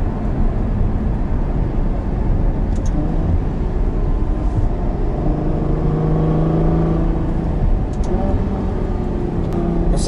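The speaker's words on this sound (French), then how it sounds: "Le couple de ce moteur." A Ferrari GTC4 Lusso with a 690-horsepower engine accelerates in a steady, sustained drone with rising engine tones from inside the car, heard continuously without speech.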